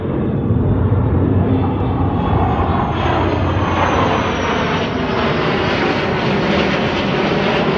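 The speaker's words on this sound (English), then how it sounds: "They're doing a lot of flybys by the beach and stuff." Thunderbirds jets roaring overhead on flybys along the beach, a loud, sustained broadband engine rush that stays strong and steady throughout.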